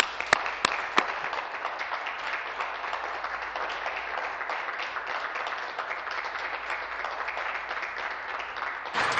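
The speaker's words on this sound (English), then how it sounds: "I ask all my colleagues to join me in applauding John Jenneck and the entire Hawkins-Jenneck" Applause fills a legislative chamber for a family being honored, a sustained wash of clapping from many members at an even level, with a few sharper near claps at the start and no speech over it.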